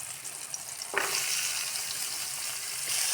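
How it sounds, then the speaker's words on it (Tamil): Onion and tomato sauté in hot oil for veg noodles, a close, continuous sizzle with a stirring scrape about a second in. "இப்போ நம்ம வெங்காயத்தை தக்காளி அதோடு சேர்த்து வதக்கிடலாம்."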